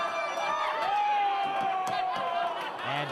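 Crowd at an NWA North American Championship wrestling match cheering, whooping and shouting in a dense, steady roar, with a sustained yell rising above the noise, occasional slams and voices mixed in throughout.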